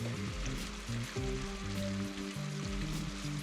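Prawns sizzling in a pan for prawn curry, a steady crackling hiss that runs the whole time beneath a soft background music bed.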